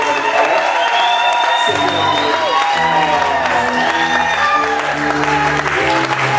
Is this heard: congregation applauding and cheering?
yes